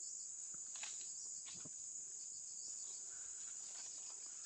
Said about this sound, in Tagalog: Daming insekto dito, Lucky Boy, nangangagat.